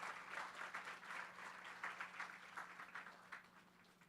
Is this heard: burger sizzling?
no